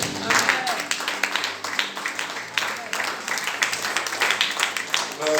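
A church congregation claps and cheers with sustained applause through a sermon, a dense, steady wash of many hands filling the room from start to finish.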